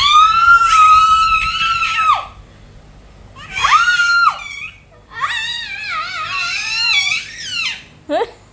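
Loud, shrill screams in three long bursts, rising and wavering, close by and filling the air, with a brief squeal at the end and no clear speech.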